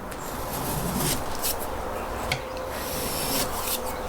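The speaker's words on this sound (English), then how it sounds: "So I'm going to show you the best way to remove this. Non-marring scraper." A non-marring scraper works glazing butyl tape off a truck camper window frame, giving a steady close scraping and rubbing texture with a few sharper strokes, no talking.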